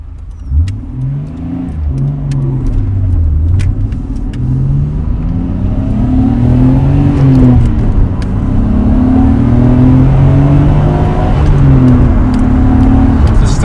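A Nissan Skyline on the road with its exhaust fitted, engine droning steadily as it accelerates and shifts, the pitch rising and falling through gears in a loud, close, fairly smooth hum.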